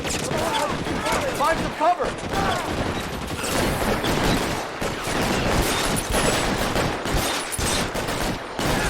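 Video game shootout in L.A. Noire, with dense bursts of gunfire and rapid overlapping shots over a busy game soundscape, with players talking intermittently.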